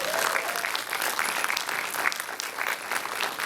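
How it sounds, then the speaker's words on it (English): An audience at a film festival orientation applauds steadily, a dense wash of clapping from a crowd that holds level throughout, fairly loud and without voices rising over it. "give her a wonderful round of applause"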